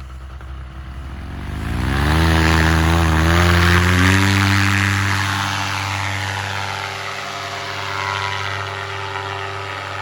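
A paramotor's engine and propeller spool up for takeoff, rising sharply from a low idle into a loud, steady, buzzing roar that eases slightly as it carries on.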